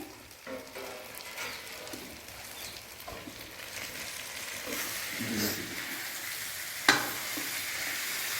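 Bananas stirred and roasted in a pan, a steady close frying crackle with scraping stir sounds and one sharp clatter near the end, alone without talk.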